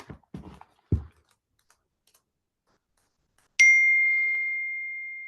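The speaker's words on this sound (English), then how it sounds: "Wait, Prabhu, there's still this bell keep ringing." A bell gives a single clear ding that rings out and slowly decays, preceded by a few soft thumps and clicks in an otherwise quiet room.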